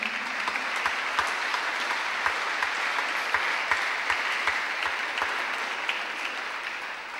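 Steady audience applause at the award ceremony of an international harp competition, a full room of hands clapping continuously and evenly at close range, with no speech over it.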